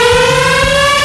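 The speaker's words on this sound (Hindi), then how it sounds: "क्या ये सायरन मेरे लिए बज रहा है?" Loud, steady siren tone with strong harmonics, sustained and close throughout the short moment with no talk.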